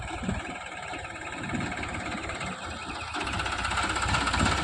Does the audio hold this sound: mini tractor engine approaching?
yes